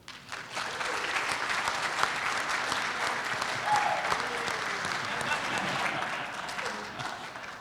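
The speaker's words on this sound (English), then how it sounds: "Please give a big round of applause to our" An audience applauds for Hunter Yeany, the 2020 F4 Rookie of the Year, at a racing awards ceremony. The clapping is dense and sustained, holding at a steady level for the whole stretch.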